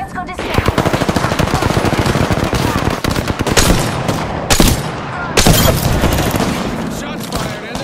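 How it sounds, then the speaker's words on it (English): Rapid automatic gunfire in the Apex Legends battle royale game, loud sustained bursts with a few heavier shots, with a player talking over the shooting. "Shots fired and they're hitting me."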